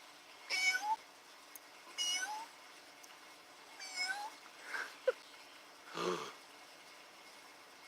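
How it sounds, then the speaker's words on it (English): A friendly neutered male feral cat on a porch in the morning meows several times in separate drawn-out calls, fairly close and clear, with no talking. "He's a feral cat. He's friendly though."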